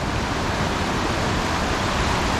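Kravica waterfall in Bosnia, near its upper start: a steady, loud, full-band roar of falling water, constant and close throughout with no voices.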